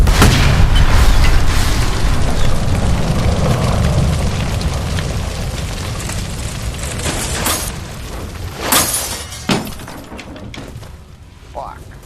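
A gas line explodes after being shot in the game LA Noire, a loud, close booming blast with shattering debris that rumbles on and fades, followed by a few sharp cracks.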